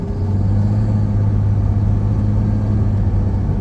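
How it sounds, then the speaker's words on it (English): A diesel truck driving along a mountain road (Hwy 38 toward Jenks Lake Road) gives a steady, heavy low engine rumble with a droning hum throughout, close and constant with no talk. "Can you hear that groaning when I turn?"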